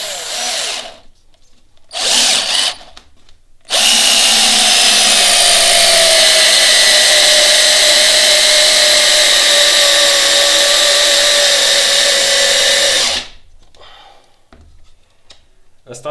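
A Parkside PABS 20-Li D4 cordless drill driving a giant 240 mm screw, loud and continuous for about ten seconds with the motor pitch slowly dropping under load, preceded by short bursts and followed by quiet talk.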